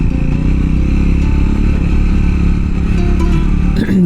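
A Triumph motorcycle climbs a steep canyon hill in first gear, its engine note steady and loud and close, with a continuous low rumble throughout and some clatter near the end.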